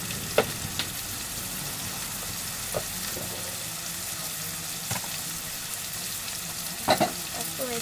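Food frying on a high flame, a continuous dense sizzle with occasional sharper crackles and clinks from stirring, heard up close with no talking.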